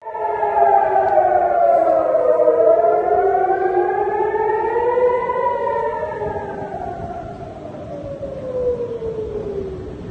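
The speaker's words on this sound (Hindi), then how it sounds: "यहां पर सायरन बज रहा है" An air raid siren at Ben Gurion Airport wailing loud and steady, its pitch slowly rising and falling in long sweeps with no voices over it.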